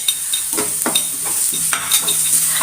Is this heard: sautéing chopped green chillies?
yes